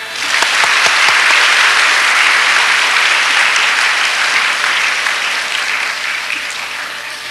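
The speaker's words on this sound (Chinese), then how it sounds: "非常热烈的掌声" Warm, sustained applause from a school audience welcoming a police officer to the lecture stage, dense and loud throughout, tapering slightly toward the end with no talk over it.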